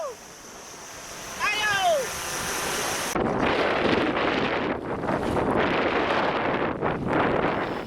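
Strong wind buffets the microphone over rough, high ocean waves during a search-and-rescue training exercise at sea, a rushing, gusty roar that pulses in surges, with a voice speaking over it.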